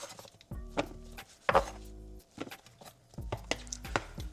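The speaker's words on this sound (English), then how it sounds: "All I'm doing here is slicing it up, trying to make it like a little bit round" A knife cuts sausage into rounds on a cutting board for meal-prep bowls, giving several distinct chopping thuds at irregular intervals, fairly close and moderately loud, with no voices.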